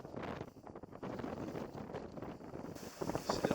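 Steady wind buffeting the microphone aboard a Catalina 36 sailboat racing in high, gusty winter wind, a broad continuous rush with some water and hull noise, loud and close with no talk.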